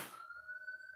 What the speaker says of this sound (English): sorry if you can hear the sirens outside